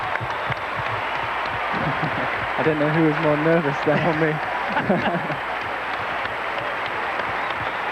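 A 19,000-capacity stadium crowd at the Calgary 1988 Olympic ice dance tango event cheers and claps steadily in a broad, continuous roar, with a commentator talking over it throughout.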